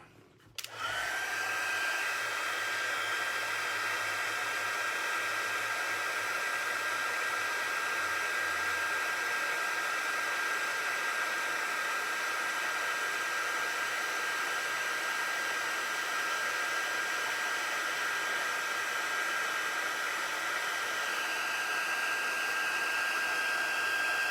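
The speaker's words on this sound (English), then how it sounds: "now we're going to heat set that real quick again" A heat tool blows steadily for over twenty seconds to heat set embossing on a pop-up card, a constant close whooshing roar with a faint high whine, starting after a short click.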